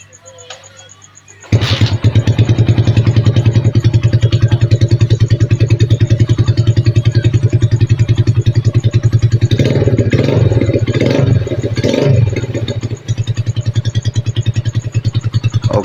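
A rebuilt GL Max Neotec motorcycle engine cranks and catches after a quiet moment, then settles into a loud, steady, close idle that keeps running to the end.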